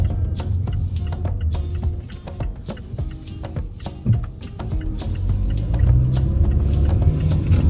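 A 2019 Mazda CX-5 AWD on the move, a steady low road rumble and engine drone heard from inside the cabin, loud and continuous with a few light bumps and clicks, no talking.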